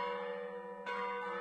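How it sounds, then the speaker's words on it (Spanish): Church bells in Ávila, Spain ring with a sustained, resonant metallic tone, and a fresh strike about halfway through renews the ringing, heard clearly at a moderate distance. "Este sonido, el de las campanas, es muy similar al que escuchaba Santa Teresa en su día."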